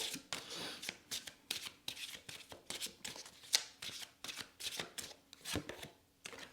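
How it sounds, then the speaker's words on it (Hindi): A deck of oracle cards shuffled by hand, a quick run of crisp riffling bursts in a steady rhythm, close and fairly soft, with no talking. "इसी से ही हम यहाँ पर आपके लिए थोड़े से ऑरेकल कार्ड्स लेंगे"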